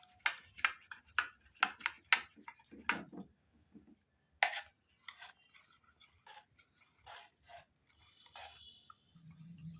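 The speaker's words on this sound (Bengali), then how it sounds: "ডালের কাটা দিয়ে ম্যাশ করে নিচ্ছি।" A wooden dal masher works through cooked lentils for sambar dal in a pot, producing a run of soft, irregular wet thuds and scraping knocks, quick clustered strokes at first, then sparser and quieter ones.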